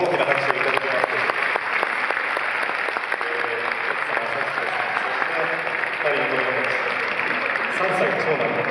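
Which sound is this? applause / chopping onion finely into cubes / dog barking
applause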